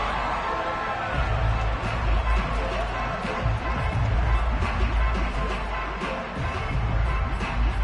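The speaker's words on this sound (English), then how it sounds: "Plenty of shouts from this crowd as they watch the replay." A football stadium crowd shouts and roars continuously as a replay is shown, a dense, loud wash of voices that stays steady throughout.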